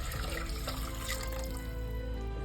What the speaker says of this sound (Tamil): இப்ப நம்ம 1 லிட்டர் தண்ணி ஊத்திக்கலாம்.